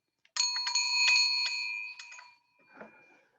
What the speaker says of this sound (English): So let me ring the bell for round 1.